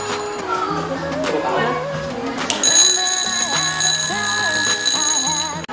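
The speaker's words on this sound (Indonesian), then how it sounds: "Demikianlah penampilan praktik bel listrik dari kelas 91." Electric bells built as a school class practical ring in turn, a steady metallic ringing with shifting tones and some background voices, growing louder and brighter partway through.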